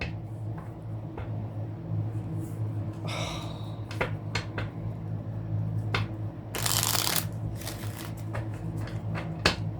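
Tarot cards are shuffled close by, quiet scattered flicks and taps followed by one longer, brighter riffle, over a low steady background hum.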